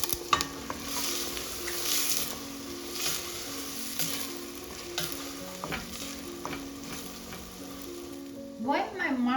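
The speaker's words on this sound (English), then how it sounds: "While my mushroom is cooking" Mushrooms and potatoes fry in a pot with a steady close sizzle, stirred with repeated scraping clicks and utensil knocks, ending with a brief burst of louder clatter.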